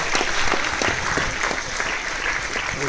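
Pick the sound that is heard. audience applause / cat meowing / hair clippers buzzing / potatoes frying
audience applause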